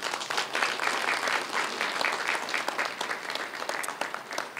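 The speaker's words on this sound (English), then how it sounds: "Please give them a clap." Steady, dense audience applause for council members at a National Youth Service pass-out parade in Gilgil, a large crowd clapping continuously and fairly loudly throughout.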